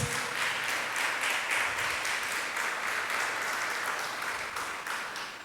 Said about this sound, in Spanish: Dale un fuerte aplauso al Señor si tú lo crees.